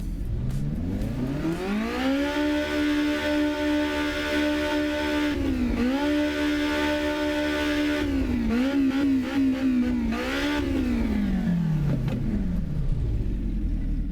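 Alfa Romeo engine heard from the cockpit in Assetto Corsa EVO, loud and buzzing as it climbs, holds a high steady rev, dips briefly with gear changes and stutters, then winds back down.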